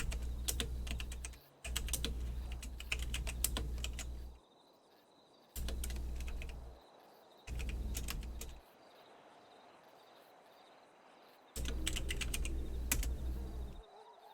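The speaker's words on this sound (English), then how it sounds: "I'm gonna type it in the chat right now" Computer keyboard typing in fast, dense bursts of clicks, broken by short pauses between stretches, close and clear with no talking.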